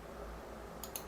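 Two quick, light mouse clicks land close together near the end, made while drafting in ZWCAD, over a quiet steady hum with no talking.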